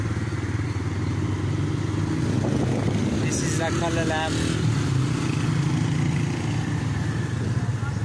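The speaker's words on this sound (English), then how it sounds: "Motorbikes everywhere." Motorbikes pass along a busy bazaar street in Dadyal, their engines buzzing and rattling in a steady close din of traffic while someone talks over the noise.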